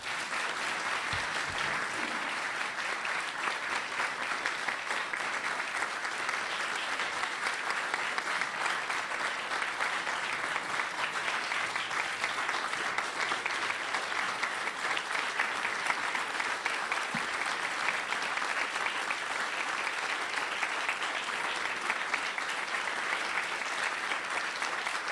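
Sustained applause from a luncheon audience at the National Press Club after a speech by Gary Sinise, a dense, steady roar of clapping lasting the whole stretch with no talk over it.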